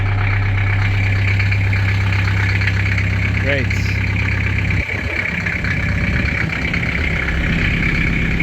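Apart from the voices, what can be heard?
car engine idling after oil change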